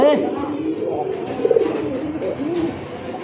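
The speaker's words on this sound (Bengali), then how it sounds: "খুবই সুন্দর মেলিবারের মধ্যে কলসি গলা নাইরা মাথার আর নর ডাকতেছে" Male pigeon cooing at a pigeon market, giving low, throaty rolling coos nearby, partly under someone talking throughout.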